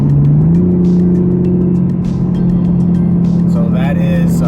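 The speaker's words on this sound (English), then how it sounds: "I'm going to hit the throttle like I did before." A Toyota GR Supra revs hard after its throttle is pressed out of sport mode, a loud steady engine drone that climbs slightly in pitch, close and continuous throughout.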